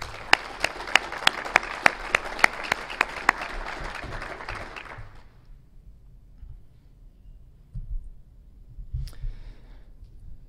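Keynote audience at the OWASP AppSecUSA 2014 security conference applauding, a dense burst of clapping for about five seconds that fades out into a quiet hall with faint shuffling.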